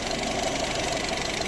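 A Skoda Octavia taxi engine idles at close range, a continuous even mechanical hum with a faint ticking knock running through it.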